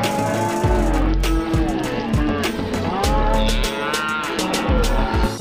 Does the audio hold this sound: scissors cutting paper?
no